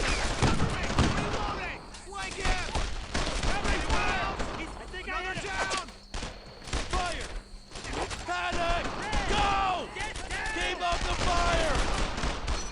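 Battlefield gunfire and explosions in the World War II shooter Brothers in Arms: Earned in Blood, bursts of shots and booms throughout with voices talking over the fighting, loud and busy.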